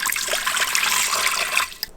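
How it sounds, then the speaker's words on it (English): Water pouring steadily into an Instant Pot, three cups of it, a close bright splashing stream that stops abruptly near the end, no talking. "Start by adding 3 cups of water into your Instant Pot."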